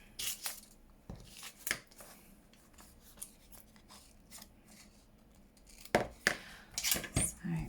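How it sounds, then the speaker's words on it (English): Scissors snipping paper while making envelopes at a craft table: scattered sharp cuts and rustles, a few short bursts early and a busier cluster of snips and paper handling near the end, with quiet gaps between. "Right, let's get my scissors."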